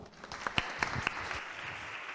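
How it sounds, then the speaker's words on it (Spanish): A small audience at a game design talk gives a faint, brief round of applause for the speaker, a handful of scattered claps over a soft room murmur that quickly dies away. "un aplauso para ella, porfa"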